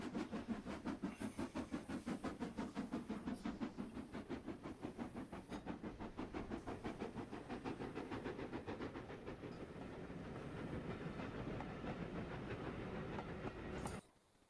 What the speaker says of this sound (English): It's an old train.